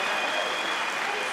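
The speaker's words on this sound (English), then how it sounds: "And listen to the crowd." Crowd at an OKTAGON MMA fight roaring and cheering during a wild brawling exchange, a dense steady wash of noise filling the arena, continuous and loud with no gaps.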